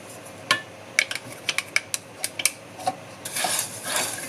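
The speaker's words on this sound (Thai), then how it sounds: "คนทุกอย่างให้เข้ากันนะคะ" A spoon clinks against a bowl while stirring shumai dipping sauce ingredients, including vinegar, together, giving a run of sharp, close metallic taps followed by a brief scraping swirl near the end.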